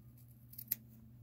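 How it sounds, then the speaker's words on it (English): Sharp little scissors snip into a knitted ski sweater at the steek, giving a quiet, brief crisp cut or two against a low steady background hum. "Really sharp little scissors, also from Knit Picks."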